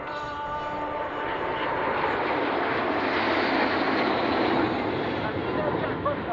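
Breitling Jet Team jet aircraft pass overhead at an airshow, a loud, continuous broadband roar that swells slightly and holds steady throughout.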